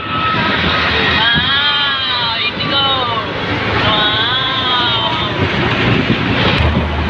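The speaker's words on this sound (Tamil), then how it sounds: "எவ்வளோ கிட்ட போகுது ஃப்ளைட்டு." A low-flying airplane roars loudly overhead beside an airport road, its engine drone swelling and sweeping in pitch, with traffic noise and faint voices underneath.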